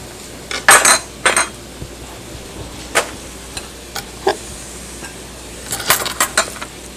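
Cucumber pieces dropped into a bowl in a home kitchen, heard as scattered clinks and light knocks against the dish, a few separate hits early on and a quick cluster near the end, fairly close, with no talking.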